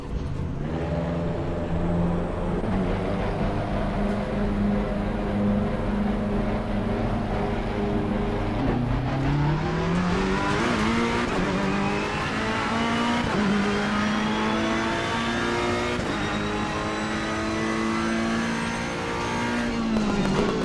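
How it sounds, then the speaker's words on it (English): A Ferrari race car engine in Assetto Corsa Competizione howls loud and close under steady throttle, its pitch climbing and dropping through gear changes over about twenty seconds, with no talk. "Some Ferrari sounds good, doesn't it?"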